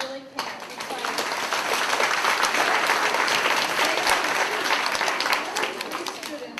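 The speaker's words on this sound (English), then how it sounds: "And cannot give my kids a better round of applause." A school assembly audience gives a Grade 3 student group loud, sustained applause, thick and continuous from many hands, with crowd voices mixed underneath.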